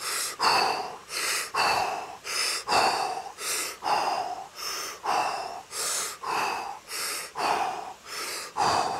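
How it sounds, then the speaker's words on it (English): Deep rhythmic breaths during a guided breathing exercise, about a dozen strong inhales and exhales in steady succession, close and loud with no talking. "And a couple of big breaths now."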